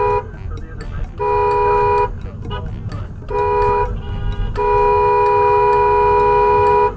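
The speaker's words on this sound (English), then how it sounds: "She was not going to get the last honk." A car horn honks in several long, loud blasts with short gaps, over low rumbling traffic noise.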